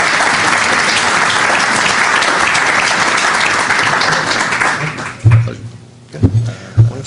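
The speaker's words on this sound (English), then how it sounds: "let's have a round of applause." Loud, close audience applause at a panel session on independent directors, dense clapping sustained for several seconds before tapering off, followed by a few thumps and handling noises as it dies away.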